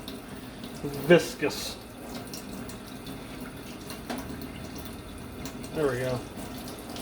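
Tap water runs while a pot is rinsed out after cooking spaghetti carbonara, with splashing bursts near the start and end between quieter stretches, and a person speaks briefly.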